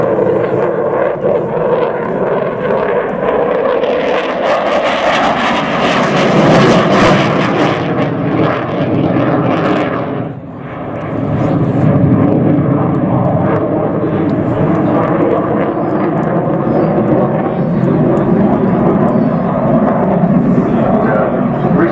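A propeller warbird flown by an Ultimate Warbird pilot from Sywell roars loud and continuous overhead at the Royal International Air Tattoo, a drone that swells, dips briefly and returns, with a commentator talking over it.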